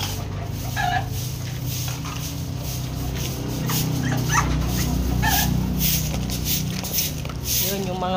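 Several dogs shut in a cage yip, whimper and bark in short repeated bursts against a steady background, with people talking nearby.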